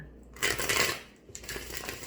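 A deck of tarot cards being shuffled up close, a riffling, papery burst of flicking cards followed by a brief pause and a second lighter flurry of shuffling.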